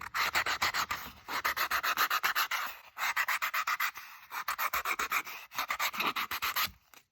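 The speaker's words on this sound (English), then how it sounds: "I need to sand the edge of this." Rapid back-and-forth rasping of sandpaper against the edge of a paper collage, a steady close scrubbing rhythm of many strokes in quick bursts with short pauses, loud and alone.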